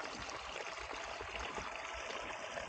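Water flowing steadily into a rice paddy through a field inlet, a continuous, fairly loud rushing and trickling wash heard close up, with no talk over it.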